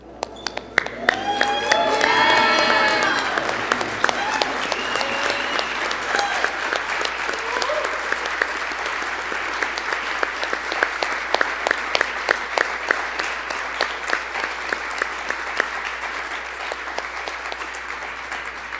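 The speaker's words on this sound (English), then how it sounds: "let's celebrate these students by standing, applauding, and cheering to let them know how proud we all are" Banquet audience standing to applaud and cheer honor students: a dense, sustained wave of clapping with a brief burst of cheering and voices near the start, then steady applause to the end.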